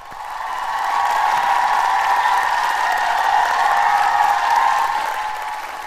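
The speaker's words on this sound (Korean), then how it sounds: "박수로 영광" A church congregation in Seoul claps together, the applause swelling in, holding steady for several seconds, then easing slightly toward the end.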